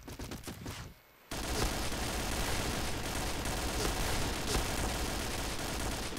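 Dense, continuous gunfire from a Point Blank online shooter match, a brief burst and pause followed by sustained loud overlapping shots and automatic fire for several seconds, with no voices over it.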